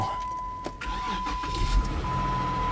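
1971 Chevy C10 truck engine cranking on a weak, low battery, a steady loud mechanical churn with a few sharp clicks and a constant electrical whine, no talk.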